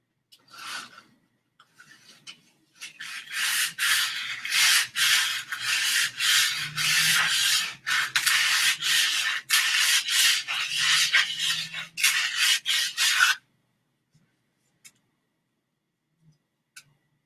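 A carved wooden wand being sanded and filed by hand: about ten seconds of steady, rhythmic scratchy rubbing strokes, close and fairly loud, followed by near silence with a few faint taps.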